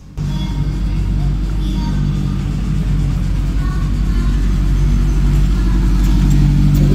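A 308 Group B rally car at the Tour Auto 2020 rolls past with a loud, steady engine drone that holds level through the whole pass.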